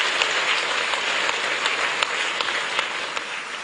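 A ministerial meeting audience applauds senior officials standing at a SADC employment sector conference, a steady patter of many hands clapping at moderate distance, evenly sustained without voices.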